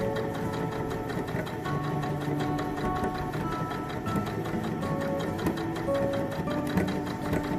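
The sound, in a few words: sewing machine stitching fabric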